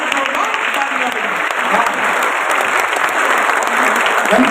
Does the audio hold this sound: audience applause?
yes